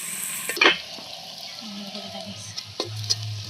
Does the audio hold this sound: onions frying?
yes